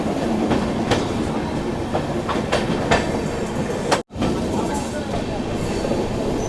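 Steady rumble and rhythmic clickety-clack of the Sairang to Guwahati intercity train in Mizoram heard from on board, with wheel noise throughout and a brief dropout near the middle.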